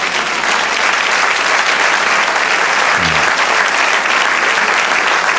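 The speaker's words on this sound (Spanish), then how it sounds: "Dar un aplauso al Señor." A church congregation applauds with dense, sustained clapping that holds at full strength throughout, with no break, heard alone.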